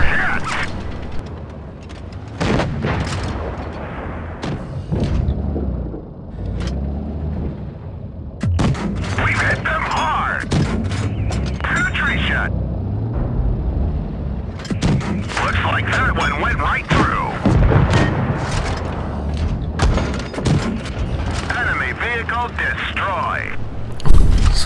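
Tank cannon fire in World of Tanks Blitz, from an M4 premium tank battle with a Jagdpanzer opponent: repeated heavy booming shots and impacts spread through the clip, loud and close, mixed with frequent talking.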